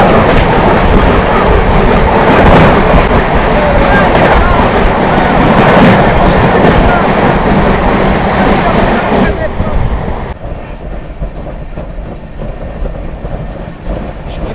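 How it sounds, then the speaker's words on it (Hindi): The Shalimar-Patna Duronto Express runs at 130 km/h through Vidyasagar railway station, a loud, continuous roar of wheels and rushing air with rhythmic rail clatter that drops somewhat in level toward the end. "फ्लैट 130 की रफ्तार में विद्यासागर रेलवे स्टेशन को तोड़ते हुए"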